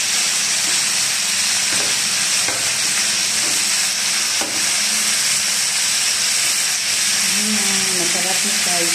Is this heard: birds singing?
no